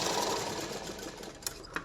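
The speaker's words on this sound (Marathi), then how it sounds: "तर याला आपल्याला वरून दाब शिलाई द्यायची." A sewing machine top-stitches a lined blouse for a Paithani saree, running in a fast steady whir close by. It ends with a couple of brief clicks.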